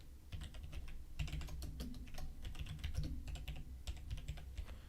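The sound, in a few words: typing on a computer keyboard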